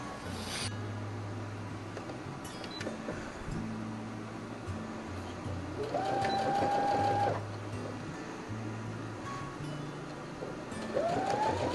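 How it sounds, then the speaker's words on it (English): A sewing machine whirs in several bursts, stitching down quilt bias binding, stopping and starting, with brief pauses between runs; close and steady, no talking. "let's go over to the sewing machine and sew this down"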